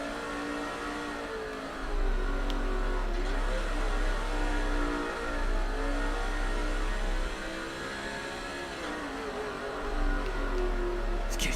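Stock car engines in NASCAR 06 drone loudly and steadily around the Daytona Beach street course, a sustained close roar with pitch sweeping up and down as the car shifts and revs, no voices.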